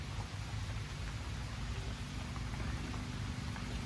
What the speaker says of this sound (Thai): แต่ฝนมันตกนะครับ